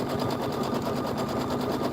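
A home embroidery machine sews a tack-down stitch along a pillow border, giving a steady, fast, near mechanical whir of rapid needle strokes with no pause and no voices.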